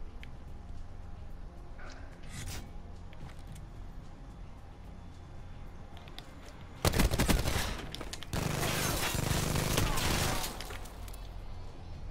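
Rapid automatic gunfire bursts from a video game erupt loudly partway through, after a stretch of quieter game ambience.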